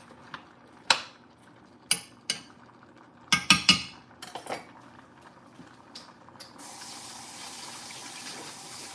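Water runs into a cooking pot for a cabbage boil, a steady filling hiss in the last few seconds, preceded by sharp clinks and knocks of metal pot and utensils close by.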